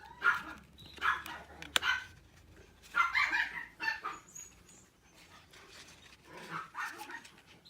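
Playing dogs bark and yip in scattered, excited bursts at moderate distance, with a few whiny yelps in between and quieter pauses, no voices present.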